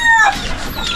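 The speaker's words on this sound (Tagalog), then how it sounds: "Papatukan siya ng kanyang mga alagang manok." Pet chickens clucking on a beach, a short close burst of clucks with a sharper call near the start, then a fainter fowl chatter.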